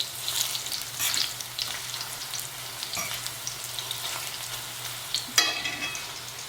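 Eggplant slices fry in a cast iron pan with a steady close sizzle and crackle, and a few sharper pops and spatters come through.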